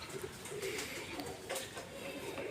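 Domestic pigeons in a loft, cooing and calling softly at close range over a steady rustling background while a flock gets ready to fly.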